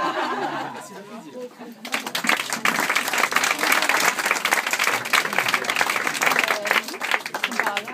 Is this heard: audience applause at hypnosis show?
yes